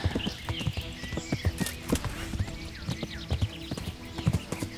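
Horse hooves clip-clop at a steady walking rhythm in the medieval game Kingdom Come: Deliverance, close and moderately loud, with a brief whinny-like tone and no talking over it.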